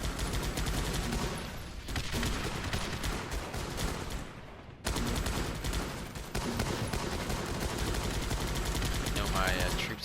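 Troops focus-fire in a video game, sending up dense, continuous gunfire that stays loud and unbroken throughout, with one brief dip in the middle.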